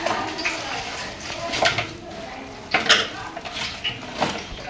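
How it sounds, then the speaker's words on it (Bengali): Raw chicken pieces for chicken chaap being hand-mixed with salt and spices in a bowl, giving soft wet squelches with a few sharper clinks against the bowl at irregular intervals, close by. "চাপের চিকেনটা মাখানো হচ্ছে, মাখিয়ে রেখে দেবো একটু"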